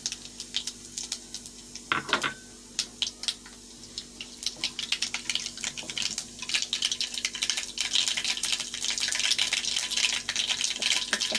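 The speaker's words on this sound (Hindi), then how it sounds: "तेल गरम है ना, तेल के अंदर जीरा डालना है बस" Cumin seeds crackle and sizzle in hot oil in a home kitchen pan, with sharp irregular pops that grow denser and louder toward the end, mixed with occasional stirring clatter.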